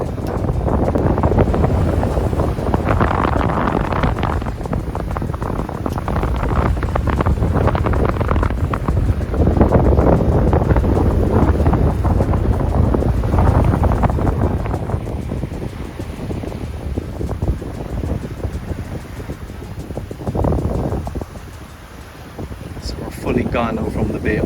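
A sailboat runs down a rocky coast off San Antonio bay toward Santa Eulalia, with heavy wind buffeting the microphone in steady gusts and someone talking over the rushing air.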